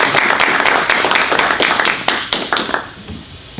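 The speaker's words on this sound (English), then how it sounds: "Can we clap first?" A short burst of applause from a small audience at a business talk, dense clapping that thins and fades out after a few seconds.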